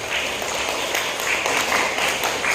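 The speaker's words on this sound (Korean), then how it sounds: "박수 안 칩니까?" A room of people clapping at a training session for health lecturers in Seoul, a continuous, even patter of many hands throughout the short span, moderately loud with no speech.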